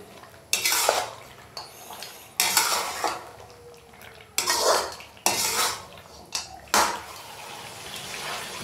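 Mutton karahi with dry coriander powder stirred in a metal pot, with a series of loud utensil scrapes and clanks coming in bursts close up, separated by quieter gaps and a low simmer underneath.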